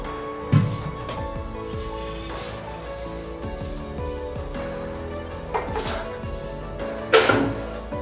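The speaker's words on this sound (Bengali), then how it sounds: "কড়াটা নামিয়ে দিচ্ছি।" A heavy karai used for deep-frying jalebis is lifted off the stove, giving a few sharp metallic clanks spaced out over a steady kitchen background hum.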